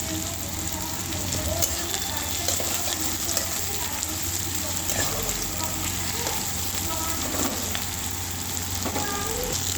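Garlic, capsicum and chillies fry in a pan with a constant dense sizzle and occasional stirring scrapes, with faint background noise beneath.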